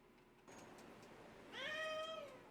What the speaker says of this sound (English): Spicy Mayonnaise, the Persian cat.